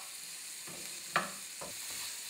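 Spices stirred in a pan over medium heat: a few soft scraping sweeps of a utensil with one sharper clink against the pan, faint and close, over a low steady hiss.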